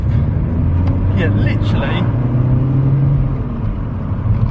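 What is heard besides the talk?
SEAT Ibiza FR car engine accelerating while driving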